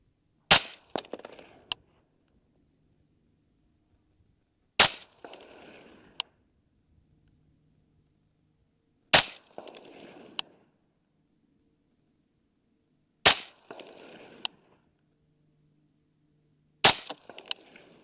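Five sharp, loud rifle shots from an LWRC M6A3 firing Freedom Munitions 77 grain open tip match ammunition, spaced about four seconds apart, each with a short echoing tail and faint clinks.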